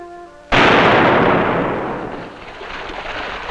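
A single loud boom erupts, followed by a long rumbling roll that slowly fades, like a distant cannon shot echoing outdoors.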